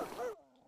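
Dogs bark and yelp briefly in the background, a short, muffled burst of canine noise lasting under a second.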